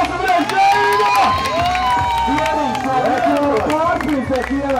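Spectators at a BMX pro final cheer, shout and clap in a lively, rising-and-falling roar, with excited voices carrying over the applause.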